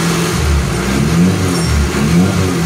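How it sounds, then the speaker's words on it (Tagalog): An engine in a car or truck with minor oil leaks runs close by with a loud, low rumble, the revs rising and falling in a few gentle surges. "Ganda ng makina."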